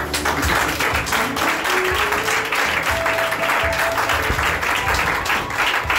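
A church congregation applauding to acclaim the Lord, loud sustained clapping from many hands filling the hall, with background music and a faint voice underneath.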